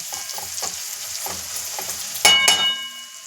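Asafoetida tempering sizzles in a pan as it is stirred, a steady close fry broken near the end by two sharp scraping knocks.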